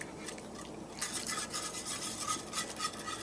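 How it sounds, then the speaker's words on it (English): A whisk working through a milk sauce in a pan, giving a steady scratchy scraping and swishing in quick repeated strokes, close and moderately loud with no talking. "Now I'm just going to whisk this a little bit."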